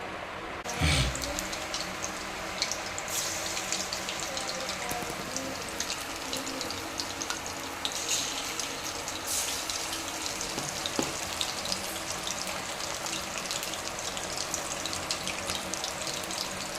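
Chicken 65 pieces fry in hot oil, giving a continuous bubbling sizzle with crackling pops, loud and close throughout after an initial clunk.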